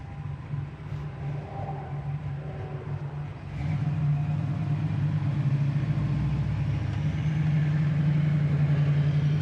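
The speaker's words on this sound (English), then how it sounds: "We're idling here at about 800 RPM, and just sounds awesome with that cam" A 1979 Chevy Camaro Z28 idles at about 800 RPM with a lopey performance cam, its low rumbling engine loping steadily and growing louder and fuller after a few seconds, close by and alone.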